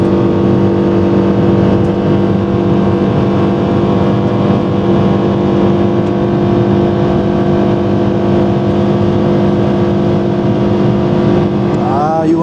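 A Nissan Sentra engine running on the Interlagos circuit, a loud, steady drone with strong held tones throughout, briefly rising in pitch near the end.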